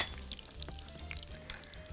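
Garlic frying in a small amount of oil, a steady close sizzle with scattered pops and crackles running through the whole stretch, no voices.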